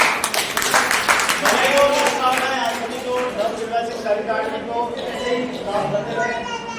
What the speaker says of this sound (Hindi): तो एक बार जोरदार ताली बजा दें।